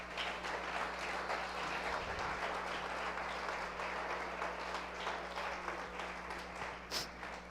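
A church congregation claps together in a steady, dense wash of applause that continues evenly throughout, moderately distant and with a low hum beneath it.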